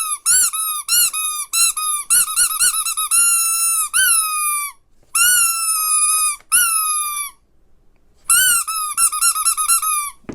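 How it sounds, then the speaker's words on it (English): A squishy three-eyed alien toy from Toy Story squeaks loudly in rapid bursts of high, piping squeals, some in quick trains and others drawn out, with brief silent gaps between squeezes and no talking. "It's definitely way more movie accurate now with the squeaking feature."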